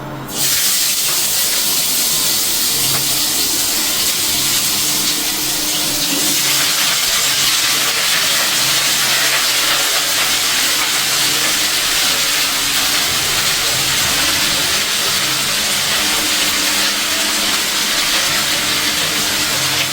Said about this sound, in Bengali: দেখো ভাজিটা তেলের পর দিয়ে দিলাম